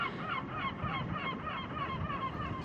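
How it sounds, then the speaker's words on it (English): Geese or similar waterfowl honking in a steady, overlapping chorus, heard outdoors on a boat trip in France, with no talk. "Some birds."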